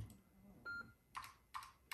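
Keys pressed on a Texas Instruments TI-99/4A Mitsumi keyboard, four quiet separate clicks spaced about half a second apart, with a brief faint electronic tone between them.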